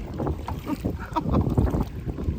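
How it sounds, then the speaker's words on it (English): Wind buffets a small boat out on the water, gusting roughly against the microphone with low rumbles and splashy surges, fairly loud and close, with no talk. "Oh no, this wind is really catching us."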